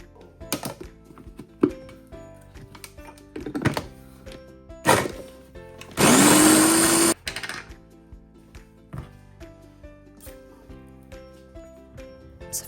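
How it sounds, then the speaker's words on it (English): A blender whirs for about a second, spinning up in pitch as it purees ginger, garlic and a tablespoon of oil into paste, between scattered kitchen thumps and clatter. "I just blended together some ginger and garlic and 1 tablespoon of oil."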